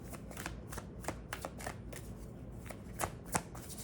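A deck of oracle cards is shuffled by hand, a run of soft, rapid riffling bursts and papery flicks, close and quiet with no talk.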